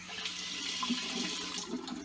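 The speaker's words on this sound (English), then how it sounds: "Sorry about the water here." Water running steadily in a bathroom during a wet shave, a constant moderate hiss and splash without speech.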